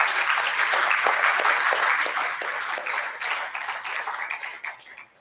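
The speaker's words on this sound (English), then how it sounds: "A big round of applause for them." A conference audience at a valedictory session on law, technology and sustainable development gives the presenters a round of applause, with full, even clapping that thins out and fades away at the end.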